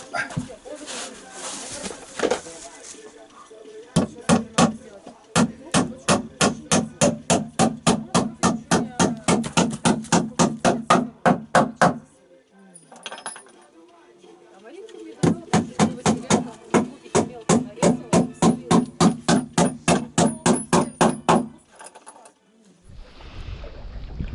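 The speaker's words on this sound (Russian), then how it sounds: "Сейчас заколачиваем гвозди." Steady rounds of hammering drive nails into wood at an outdoor family camp, with fast, even blows in two long bursts broken by short pauses; the strikes are loud and close, with light background noise between them.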